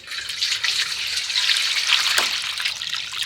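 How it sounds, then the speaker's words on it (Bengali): Plain tap water pours steadily into a large basin for making homemade phenyl cleaner, a continuous splashing trickle close by with no talk over it. "এবার এই গামলার মধ্যে আমি জল দিয়ে দেব নর্মাল জল দিয়ে দিতে হবে"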